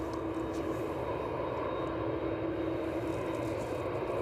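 A large aircraft taxis off the runway toward the cargo apron at East Midlands Airport, its engines producing a steady, loud, continuous roar and whine throughout with no break.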